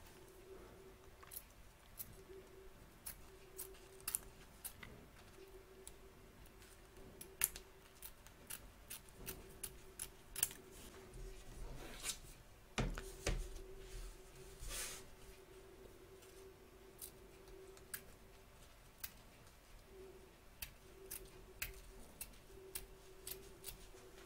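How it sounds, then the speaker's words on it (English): Quiet, repeated sharp snips of scissors trimming excess fabric around an embroidery hoop, irregular clicks spaced through the clip over a faint steady hum. "So turn your hoop over and trim away the excess fabric."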